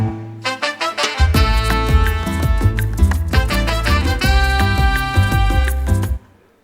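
Mastercard's sonic brand anthem in its Colombian version, a bright melodic jingle with a few plucked opening notes that swell into a full, layered arrangement before ending cleanly after about six seconds.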